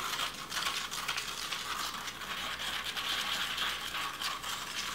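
Glow-in-the-dark powder being stirred into resin inside a container, with steady scraping and ratcheting clicks along the bottom and sides, continuous and fairly close.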